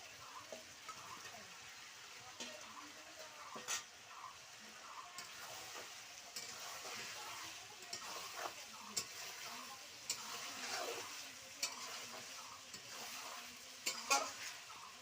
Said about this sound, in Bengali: মাংসটা কষানো প্রায় হয়ে এসছে তেল ছেড়ে দিয়েছে এবার ভাজা আলুগুলো দিয়ে দেবো